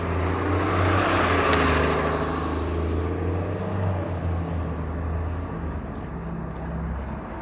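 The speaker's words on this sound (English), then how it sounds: "There's always a parade of buses turning out here." Buses pulling out at Kipling Station in Toronto's west end, a loud, close engine rumble with rising revving that holds steady for several seconds over outdoor traffic noise, with no voices.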